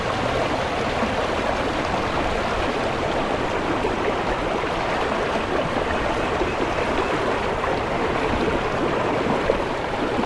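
Fast floodwater rushes through a city street in Gujrat during a flood, a steady loud roar of turbulent water lasting throughout with no pauses.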